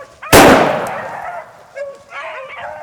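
A single loud shotgun blast while hunting swamp rabbits with beagles, a sharp close boom with a long fading tail, followed by faint dog yelps and distant voices.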